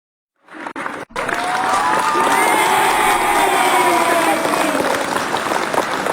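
A crowd bursts into loud clapping and cheering after a brief pause, with whoops and shouts over steady applause, close and sustained.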